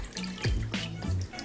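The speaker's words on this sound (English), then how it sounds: "So now we're just going to put water on our glass pan." Water poured from a tap into a glass baking pan set inside a larger pan, forming a water bath for a chocoflan; a short, close splashing and trickling run with gurgling bursts, no talking.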